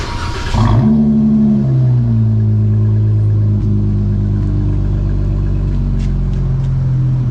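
A warm car engine cranks and catches with a loud burst, then settles into a steady, low, rumbling idle that stays close and constant.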